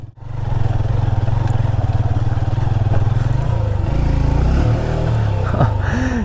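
A Honda CB150F motorcycle engine labors loudly and steadily in low first gear while climbing rough off-road hill terrain, revving up and down with clatter toward the end.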